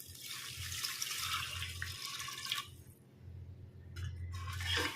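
Water runs and splashes steadily into a pot holding mung beans for kanji, with brief pauses in the flow and a faint low hum underneath.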